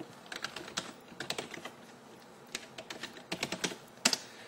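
A login being typed on a computer keyboard, soft close keystrokes in quick irregular clusters separated by short pauses, ending with a sharper key press, no talk.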